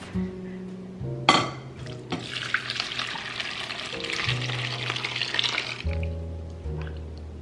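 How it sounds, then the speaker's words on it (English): Liquid left in a crock pot, cooked with onions, is poured through a fine mesh sieve into a bowl, giving a steady splashing trickle after a clatter of the pot, with a few clinks at the end. "I just have a fine mesh sieve over a bowl, and we're gonna pour everything that's left in the crock pot in here"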